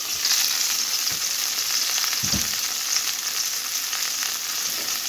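Onions frying in a pan with potatoes about to go in, a steady close sizzle throughout with a few soft clicks of stirring, no talk.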